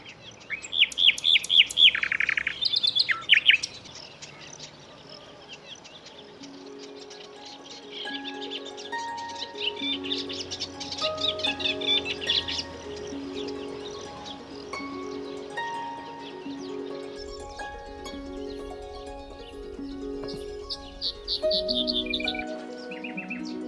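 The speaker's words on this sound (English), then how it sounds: "This is a nightingale" A nightingale sings on Lesvos, a rich run of varied whistles, trills and chirps that rises and falls over some twenty seconds, clear and fairly close, with faint background noise and no talking.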